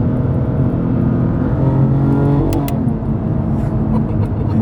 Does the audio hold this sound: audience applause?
no